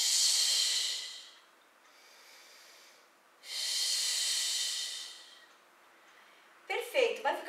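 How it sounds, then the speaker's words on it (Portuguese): Long, deliberate breaths during a Pilates oblique crisscross exercise: a strong airy inhale, a softer pause, then another loud sustained breath, close up, followed by a brief voice at the end. "Inspira."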